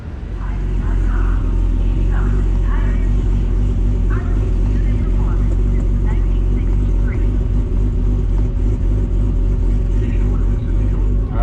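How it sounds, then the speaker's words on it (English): A drag race car sits idling in the staging lanes, its engine giving a loud, steady low rumble that holds throughout, with a few faint bursts of other noise over the top. "I'm letting the car idle a little bit."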